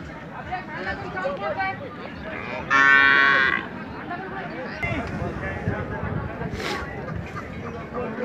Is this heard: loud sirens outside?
no